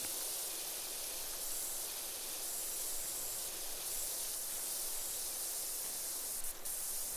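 A pressure washer in PowerWash Simulator 2 sprays in a steady, faint hiss of water jet that runs unbroken throughout, with no speech over it.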